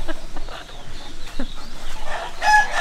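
A rooster perched in a tree crows nearby, its call rising near the end, with scattered clucks and outdoor background noise around it.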